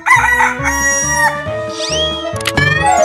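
A cartoon rooster crows loudly and close up in a long cock-a-doodle-doo over bouncy, rhythmic background music.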